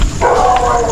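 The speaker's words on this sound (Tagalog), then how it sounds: "Katakot yung mga aso." A dog barks sharply and close by along a road during a 240 km ultra gravel bike challenge in 2024, one short loud burst lasting about a second with no talk over it.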